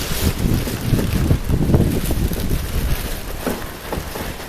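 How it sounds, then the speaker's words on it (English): Strong, steady wind buffets the microphone outdoors, a continuous loud rumbling roar with gusty swells and no voices. "Yeah, it is windy out here."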